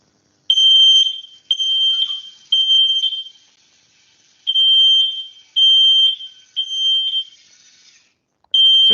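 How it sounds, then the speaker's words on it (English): Smoke alarm sounding in a smart-home setup linked to an IoT sensor that shuts off a cooker: loud, piercing electronic beeps in a repeating pattern of long blasts separated by short gaps, alone with no talk. "So it's just a simple example of how a smoke alarm would go off."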